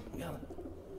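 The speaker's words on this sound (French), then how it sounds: "Il y a des pigeons" Soft pigeon cooing, low and throaty, briefly under a voice speaking nearby, in a large abandoned building.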